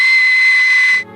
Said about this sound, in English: I'm not sure if the death whistle can cure illness, but I'm pretty sure it can cause it.